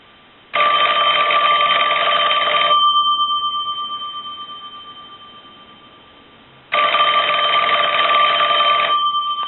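A Northern Telecom telephone bell rings in two loud, close bursts of metallic trilling about two seconds long, with a fading tone between rings.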